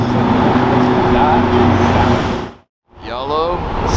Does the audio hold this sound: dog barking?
no